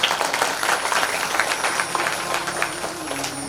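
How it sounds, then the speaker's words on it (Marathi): Audience clapping at a Marathi religious discourse gathering, a continuous, moderately loud wash of many hands clapping at once without a voice over it. "एकदा जोरात टाळ्या वाजवा"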